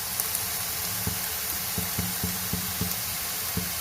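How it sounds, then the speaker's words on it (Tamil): Curry leaves hit hot oil with well-sautéed onions for a homemade bangada fish curry, a soft continuous sizzle broken by a series of dull spoon knocks against the pan, no voices. "இப்போ நம்ம கருவேப்பிலை போட்டுக்கலாம்."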